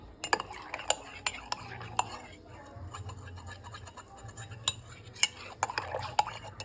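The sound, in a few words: stirring a hot drink in a cup with a spoon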